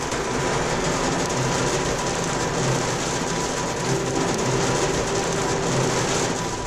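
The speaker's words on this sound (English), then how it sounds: "And now it's hailing." Hail falls during a high-country mountain storm, a dense, continuous clatter and hiss of ice striking the ground and surfaces, loud and unbroken throughout.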